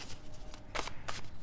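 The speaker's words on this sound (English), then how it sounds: "we're going to shuffle with a little more intention here." A deck of tarot cards is shuffled by hand in a few quick, crisp riffling bursts, close and fairly quiet, with no talking.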